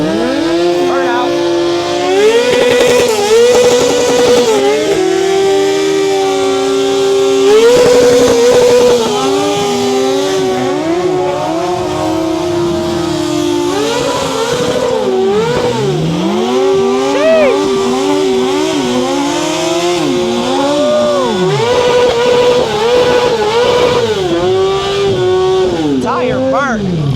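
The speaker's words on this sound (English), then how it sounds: "Burn out." A 2025 Kawasaki ZX-6R sport bike does a burnout at night, its engine screaming at sustained high revs with rising and falling pitch across the whole stretch, loud and close, while people shout and talk excitedly over it.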